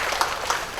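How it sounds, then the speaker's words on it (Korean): Brief, steady applause from a lecture audience at a parents' talk in a church setting, with a few louder claps standing out in a short burst. "30대를 향해서 박수 부탁드리겠습니다."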